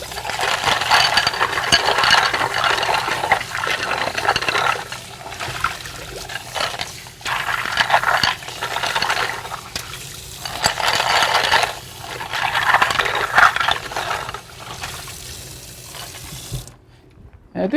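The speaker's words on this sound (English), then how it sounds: "So I'm going to rinse them again to drain all this nasty water." Clams are rinsed under a running kitchen tap, splashing water rushing in repeated bursts that rise and fall as the shells are swished and drained, close and fairly loud.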